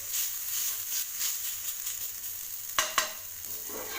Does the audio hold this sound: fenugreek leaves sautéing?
yes